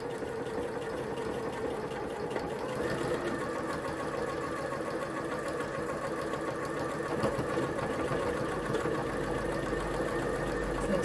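A sewing machine stitches a buttonhole, sewing a curve at one end and then zigzagging backwards, in a fast, steady, continuous mechanical whir that stays even for the whole stretch.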